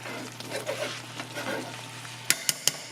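Soft bubbling and stirring of Swiss steak boiling in a pot, close and quiet, followed by three sharp metallic taps at the end.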